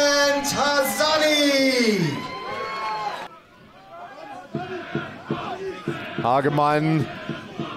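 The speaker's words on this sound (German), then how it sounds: "Jubel bei den Gastgebern." Home fans at a regional league football match between FC Wegberg-Beeck and Wuppertaler SV roar after a goal, a loud crowd yell that swells and fades, with a commentator talking over it.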